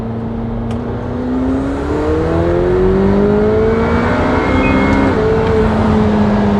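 A McLaren 720S engine accelerates hard in third gear from about 3,000 RPM, its pitch climbing steadily to a loud, close roar before a brief shift blip and renewed pull.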